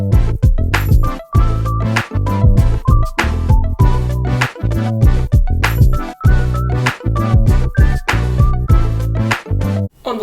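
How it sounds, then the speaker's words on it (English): Little lead keyboard synth run through several AUv3 effect plugins, including DLO1, playing a bright melody over a busy, loud, rhythmic backing groove with steady beats, no voices. "a little lead keyboard, which sounds like this"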